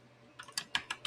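Several quick keystrokes tapped on a computer keyboard while entering a futures ticker symbol, about five crisp clicks in an uneven burst, close and clear, with no talking.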